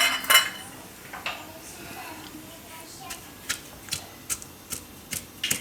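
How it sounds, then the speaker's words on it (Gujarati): Ingredients pounded with salt in a mortar for a Gujarati corn and potato curry: a series of sharp clacking strikes, sparse at first and then a steady rhythm of about one per half second, with someone talking quietly early on. "શાકમાં મીઠું નાખવાનું હોય એ આમાં નાખીને ખાંડી નાખવાનું."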